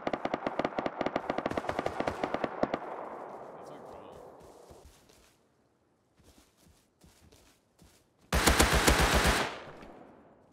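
Rapid bursts of automatic gunfire in the survival game Rust, loud and dense for the first few seconds, then fading into sparse faint shots and rustling before a second sharp, loud burst near the end.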